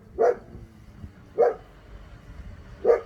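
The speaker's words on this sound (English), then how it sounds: "there's a truck driving by and my dog's barking" A dog barks three times, about a second and a half apart, each bark sharp and moderately close, over a quiet low rumble from a truck driving by.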